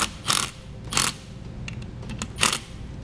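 Ratchet wrench tightening flathead bolts on an Air Lift LoadLifter 5000 air helper spring assembly, heard as three short bursts of rapid clicking separated by pauses, fairly close, with no talking.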